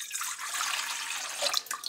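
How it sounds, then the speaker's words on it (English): Water being added to flour in a bowl while making pizza dough for a rocket pizza oven, heard as a steady close trickle and splash for about two seconds, with a few brighter drips near the end. "the next step is to add the water"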